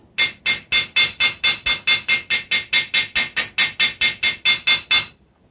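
A hammer strikes a small chisel to cut a slot in steel for a brass inlay, about twenty sharp, evenly spaced metallic blows in quick rhythm, close and loud, with no talk.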